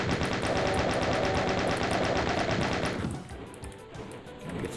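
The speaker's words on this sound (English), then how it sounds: "Chain gun's probably better for this" Chaingun in the video game Doom firing a rapid unbroken stream of loud shots for about three seconds, then stopping as quieter game noise carries on, with no talking.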